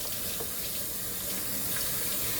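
Tap water runs steadily into a sink while a doll wig is rinsed under the stream, a close, continuous splashing wash with no break and no voices.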